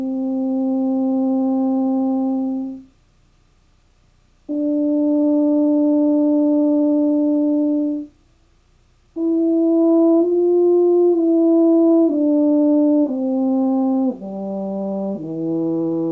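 A brass instrument plays steady warm-up tones: two long sustained notes, then a smooth descending run of shorter notes, clear and close with no talk.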